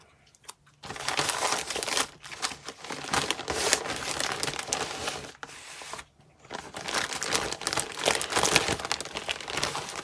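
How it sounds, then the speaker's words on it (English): Paper stickers being torn and crumpled by hand at a junk-journal craft table, a close, busy run of crinkling and ripping bursts that pauses briefly twice before carrying on. "I'm tearing up some stickers"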